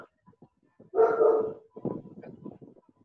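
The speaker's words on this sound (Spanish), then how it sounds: "El perro." A dog barks once loudly nearby, followed by a softer string of short yips and whines, with quiet gaps and scattered background noise around it.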